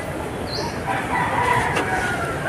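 A rooster among tethered chickens on a pig farm crows once, faint and distant, over a steady outdoor background hum.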